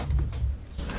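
A ratchet with a long socket clicks in quick bursts while working on a BMW E92 M3, a short close-up series of mechanical ratcheting ticks.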